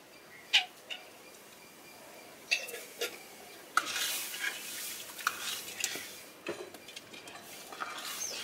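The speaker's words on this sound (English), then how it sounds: "stir in green chilies and cook few minutes" Green chilies being stirred into warm coconut vinegar with a coconut-shell spoon over a dry coconut-leaf fire, giving scattered light scraping clicks and taps with a soft sizzle and hiss building midway, outdoors in a Sri Lankan village, no talk.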